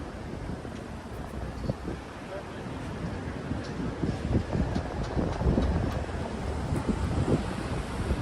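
Wind gusts roar into the microphone on a misty, rainy New York City street near Radio City Music Hall, a heavy continuous rush that builds toward the middle.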